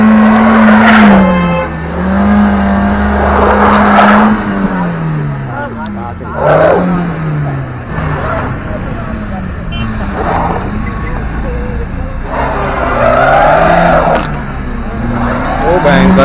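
A car stuck after an accident is being pulled out. Its engine revs hard again and again, with tires spinning and the pitch rising and falling, while people shout and talk loudly nearby.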